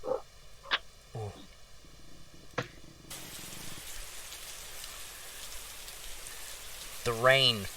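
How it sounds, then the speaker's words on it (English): Heavy rain pours through a jungle canopy, a steady broadband wash of drops building after a few brief sharp sounds, with a short burst of voice near the end. "The rain pelting down through the jungle canopy and big droplets splashing in your faces"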